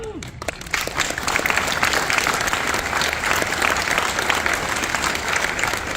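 A convention panel audience at San Diego Comic-Con claps and cheers in a sustained, dense wave of applause that rises quickly and holds loud throughout.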